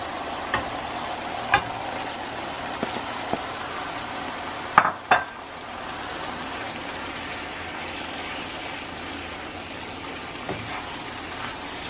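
Shrimp dropped into a pan of browned tomato and onion, frying with a steady low sizzle broken by a few sharp clatters of utensils against the pan.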